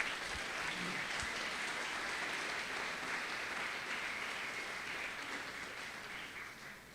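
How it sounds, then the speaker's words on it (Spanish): Church congregation applauding during a Sunday sermon; a faint but steady wash of many people clapping fills the room at a distance, slowly tapering toward the end, with no talking over it. "Denle un gran aplauso a nuestro Rey,"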